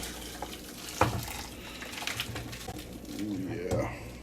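Ramen broth pours into a bowl in a gurgling, splashing stream with brief sloshes, close by, while a person speaks over it.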